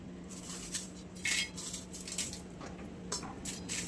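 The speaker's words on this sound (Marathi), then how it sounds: "आता मिरची आहे ना आपण भाजून घेणार आहे" Dried Byadgi chillies roasting in a pan, heard as light clinks and scrapes of a utensil against metal with a few brief rustling bursts over a low steady hum, close and quiet.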